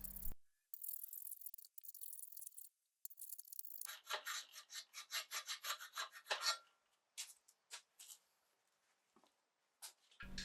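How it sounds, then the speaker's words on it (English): A hand file rasps against rusty, pitted metal inside the pivot of an old blacksmith post vise, making a run of quick, scratchy, close strokes that thin out into a few faint scrapes before silence. "now I'm just taking a file and I'm kind of trying to get some of the rust and pitting and smooth out the inside of the pivot point there"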